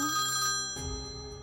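A telephone rings with an incoming call, a short electronic tone sequence with sustained pitched notes, moderately quiet and without speech.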